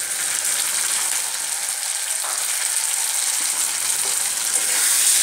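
Chilli chicken frying in a pan after green and red chilli sauces are added, giving a steady, close, broadband sizzle that holds evenly throughout with no talking.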